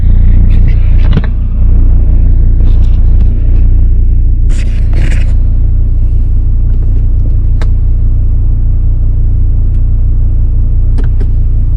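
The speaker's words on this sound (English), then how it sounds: "Then you put it into the drive gears. You start in first gear." A Volvo with a five-speed automatic transmission pulls away in first gear, producing a steady, loud low engine and road rumble heard from inside the car, with a few brief clicks and knocks.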